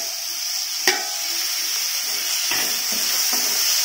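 Chopped onions and tomato sauté in a pan with a steady soft sizzle and hiss, broken by a few scraping stirs of a utensil, heard alone at close range.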